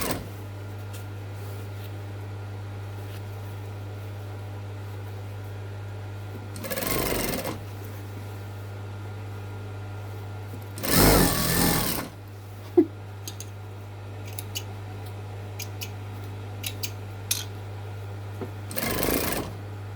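Domestic sewing machine stitching a zip into a garden seat pad, heard as several short, loud bursts of running stitches separated by pauses, with a steady low electrical hum running underneath throughout.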